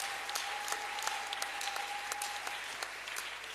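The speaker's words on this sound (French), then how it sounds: "Acclamons plus fort ce grand" A church congregation claps in steady rhythmic applause, many hands together, while a sustained tone hums underneath.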